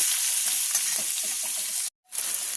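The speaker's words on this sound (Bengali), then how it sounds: "বড়ি বেগুন একসাথে ভাজবো।" Lentil dumplings and eggplant frying together in a pan, a loud continuous hiss of hot oil with faint stirring knocks, cutting out briefly before resuming.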